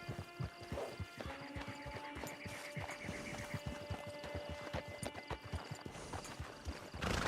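Hooves of a horse in the video game Red Dead Online clip-clop in a steady rhythm, with a snort or whinny and ambient game hum in the background, moderately loud and close.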